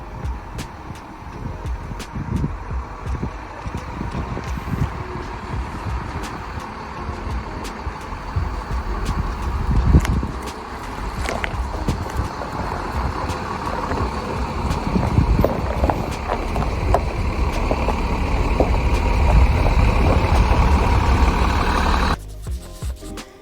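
An RV drives along the road on its way back to storage, a steady, loud rumble of engine and road noise building gradually over the whole stretch, with no talking.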